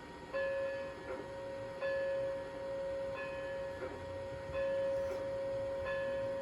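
The electronic bell of a Bachmann 2-6-0 Mogul model locomotive with an ESU 5L sound decoder rings in steady, evenly spaced strikes over a constant mechanical hum.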